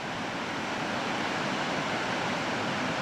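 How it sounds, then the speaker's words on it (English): A waterfall on the north coast of Scotland rushes as a dense, unbroken roar, heard from a distance but still loud, without any voices. "Looking at that spectacular waterfall in all its glory."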